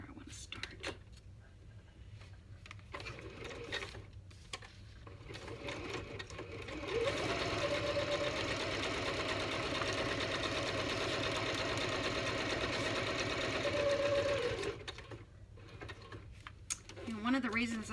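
A sewing machine set to zigzag runs a continuous stitching burst of about seven seconds on a junk journal page, nearby and steady, framed by quiet handling noises and soft talk before and after.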